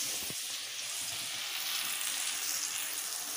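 Cauliflower and potato sabzi cooks in oil in a pan, giving a steady, close hiss of frying that continues evenly throughout with no talk.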